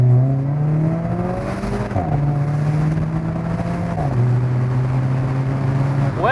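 An Alfa Romeo 4C sports car pulls hard through the gears, its engine note rising steadily, dropping briefly at each shift, then climbing again, loud and close as if heard from inside the cabin.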